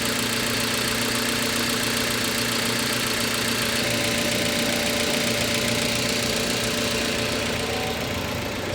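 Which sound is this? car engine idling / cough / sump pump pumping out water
car engine idling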